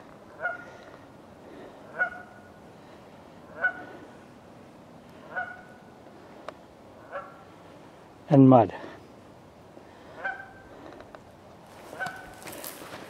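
Geese honk outdoors in brushy woodland, a steady series of loud calls repeating every second or two at moderate distance, with a brief burst of nearby speech partway through.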